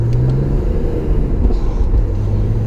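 A BMW E36 M3 engine rumbles steadily and loudly from inside the cabin while cruising on the road, with a low, even drone and a faint voice briefly in the background.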